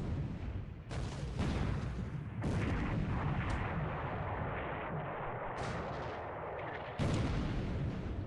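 Naval 5-inch guns fire in a World War II naval strategy video game, a run of heavy, booming blasts with long rumbling tails, loud and close, each new salvo cutting in sharply with no talk.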